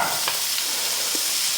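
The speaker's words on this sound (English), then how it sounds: "we're gonna saute the carrots with the onions first" Carrots and onions sauté in a pan for borscht, giving a continuous close sizzle with a few soft stirring scrapes and no talking.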